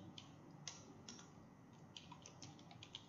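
Faint, sparse clicks of typing on a computer keyboard, with scattered keystrokes in an irregular rhythm over a quiet room hum.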